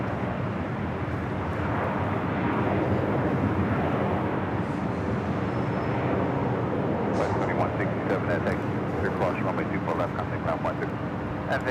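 An airliner at LAX airport produces a broad, steady jet roar that fills the whole stretch without letting up. A voice talks over it throughout.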